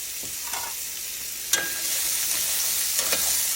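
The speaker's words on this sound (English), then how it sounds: "I put a little more olive oil in my skillet here, and I'm going to fry these until they're tender." Celery and carrots frying in olive oil in a skillet, a steady close hiss of sizzling with occasional stirring scrapes and clicks, no voices.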